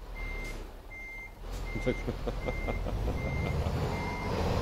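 A truck in a driving game backing up, its reversing alarm beeping six times at an even pace over a steady low engine drone, with a brief hiss partway through.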